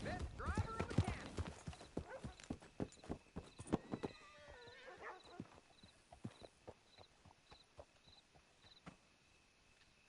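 Horse hooves clip-clopping in Red Dead Redemption II, a steady walking rhythm of hoofbeats with a whinny near the start, while voices talk over the early part.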